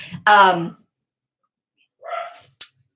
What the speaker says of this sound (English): dogs are barking, totally distracting me